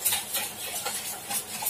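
Yogurt being stirred and whisked by hand in a bowl for a thick, creamy lassi, giving a steady run of soft, rhythmic scraping and clinking strokes, close and fairly quiet, with no voices.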